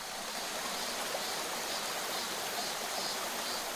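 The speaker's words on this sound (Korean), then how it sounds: "바위 틈으로 떨어지는 물소리가 숲의 고요함을 깨웁니다" Forest stream water spilling through rock crevices makes a steady, even rushing and splashing, constant and moderately soft, with no voices.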